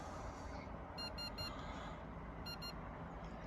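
A StarLine alarm on a Ford Custom/Tourneo van sounds short, high electronic beeps, a quick cluster and then a pair, over a low, steady vehicle hum, with no talking.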